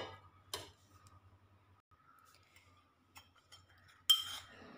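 A spoon mixing cornflour into coconut milk in a bowl in a quiet kitchen: a few faint, scattered clinks and light taps of metal against the bowl, with one sharper clink near the end and near-silence between.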